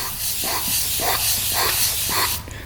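A voice rhythmically hisses and whooshes, imitating an orbital shaking table's repeated motion, about five pulses in a steady cycle, close to the mic.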